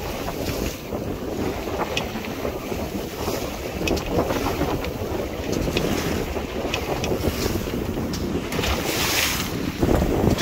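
A sailboat heels along under sail in wind and swell off Rame Head, steady rushing wind buffeting the microphone over the wash and slap of waves against the hull, loud and continuous throughout.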